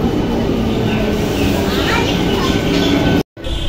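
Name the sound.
train arriving at station platform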